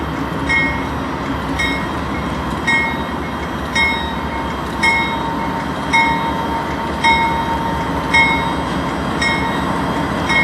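Norfolk Southern diesel locomotive 4055 leading a train and throttling up, a steady heavy engine drone with rhythmic clicking of wheels over rail joints, loud and continuous without talk.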